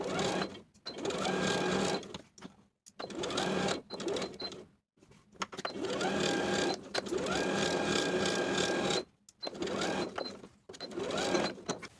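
A domestic sewing machine edge-stitching the folded edges of a summer shorts pocket, running in several close, loud bursts separated by brief pauses.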